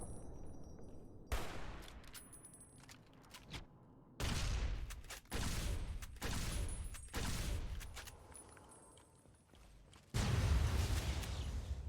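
Plasma grenade blasts and weapon fire in Fallout: New Vegas, Old World Blues DLC: several loud, sharp explosions separated by quieter rumbling gaps, with a heavy final burst.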